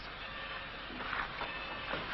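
A train in an old western film begins to move, a steady rumbling mechanical chug with faint rhythmic clatter rising slightly toward the end, heard alone without talk.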